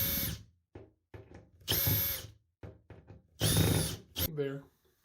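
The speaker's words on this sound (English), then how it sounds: "And then with a screwdriver or a Phillips drill bit," A power drill with a Phillips bit drives a screw into a chrome bathroom hook mounting plate in short, loud whirring bursts separated by pauses, close up, with a few quiet knocks between.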